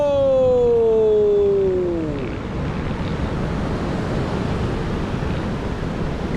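Surf washing onto a beach on a January day, a broad steady rush of breaking waves near and loud, with a falling tonal whine fading out in the first two seconds.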